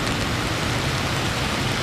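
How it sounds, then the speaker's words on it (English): Rain falling during a storm in Tempe, a dense, steady hiss of drops on surfaces, loud and continuous with no voices over it. "Right now the rain has let up a little bit."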